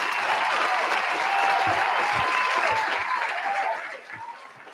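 A live crowd at a college event gives a round of applause for conference office staff promotions, a dense, steady wash of clapping that fades toward the end, with faint voices underneath.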